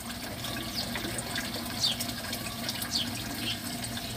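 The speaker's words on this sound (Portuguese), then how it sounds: "Tá dando uma descarga lá no canto agora." Aquaponics grow beds drain water near a fish tank with small carp, giving a faint, steady trickling and gurgling with occasional drips, heard alone.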